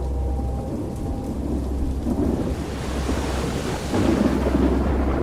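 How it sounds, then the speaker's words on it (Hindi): Heavy, steady downpour from an ancient flooding rainstorm roars continuously, with low rumbling thunder rolling underneath and swelling louder near the end, no voices. "शायद ही आसमान का कोई हिस्सा होगा जो इस बाढ़ वाली बारिश से फट नहीं रहा था।"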